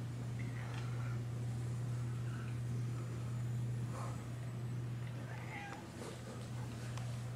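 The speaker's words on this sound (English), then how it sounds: "Kittens. Farm cat." A farm cat meows a few times outdoors, the calls moderately close and brief, over a steady low hum.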